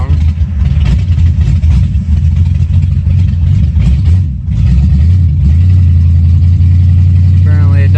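A loud Lincoln car engine drones steadily while cruising, a heavy low rumble filling the whole stretch with a brief dip midway, and a person talks over it.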